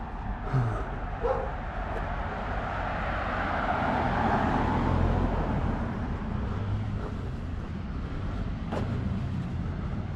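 Dog barks and yips on a street in Arana Hills, Brisbane, sounding over steady traffic noise, with a few short calls early on and then mostly road rumble.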